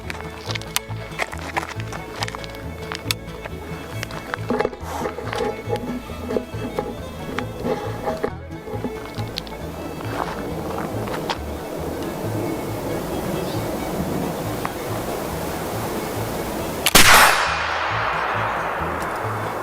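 A custom early Virginia flintlock rifle, primed with fine priming powder, fires one sharp, loud report near the end, after a stretch of quieter handling clatter outdoors.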